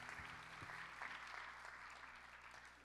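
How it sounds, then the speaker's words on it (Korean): Soft, steady clapping from a church congregation during a young adults' worship service, a diffuse patter held at low level over a constant background drone. "주님 앞에 감사와 영광의 박수를 올려드립시다."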